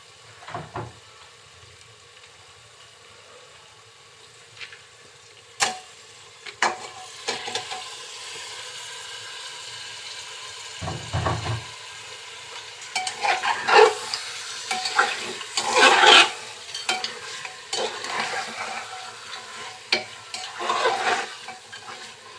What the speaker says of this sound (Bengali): মাংসগুলো এখন মশলার সাথে খুব ভালোভাবে নেড়ে চেড়ে কষিয়ে নিতে হবে।